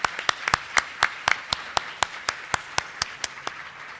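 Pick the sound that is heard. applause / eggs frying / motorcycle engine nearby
applause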